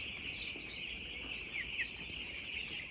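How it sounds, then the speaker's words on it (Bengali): Broiler chickens on a poultry farm, a dense, continuous chorus of clucking and chirping from many birds at moderate distance, with no talk. "এখানে মুরগিগুলো দেখো"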